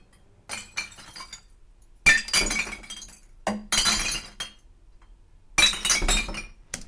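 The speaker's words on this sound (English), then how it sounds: "just recording actually throwing glass bottles into a glass collection container." Glass bottles thrown into a glass collection container, smashing in four loud separate bursts of breaking and clinking glass, each crash trailing off into rattling shards, close and dry with no talk.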